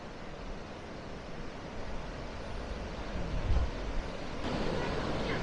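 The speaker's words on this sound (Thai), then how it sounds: "ช่วงนี้นี่จะเห็นว่าคลื่นลมเริ่มแรงแล้วค่ะ" Strong wind and waves at the largest bay on Koh Phayam, Thailand, a dense continuous roar of surf and gusting wind buffeting the microphone, swelling slightly toward the end.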